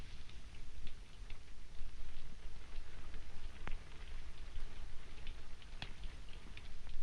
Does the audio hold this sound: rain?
yes